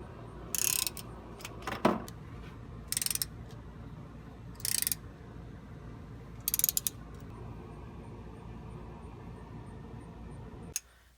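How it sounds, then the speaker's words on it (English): A ratchet works loose the rear differential cover bolts on a Chevrolet Trailblazer. It makes five short, crisp bursts of clicking, spaced a second or two apart, with a quiet garage background in between. "We opted to use a ratchet to reduce the risk of breaking the bolt."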